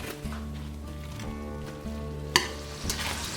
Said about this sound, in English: I'm going to brown my ground beef